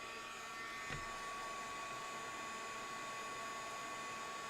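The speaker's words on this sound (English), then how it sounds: "Give my heat tool a second to heat up." Embossing heat tool blowing hot air to melt white embossing powder, a steady broadband whoosh held at an even level throughout, close and continuous with no talking.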